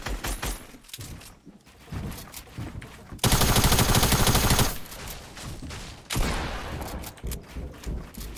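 Gunshots in the video game Fortnite: busy game noise broken by a loud, dense burst of rapid automatic fire lasting over a second, followed by more scattered shots.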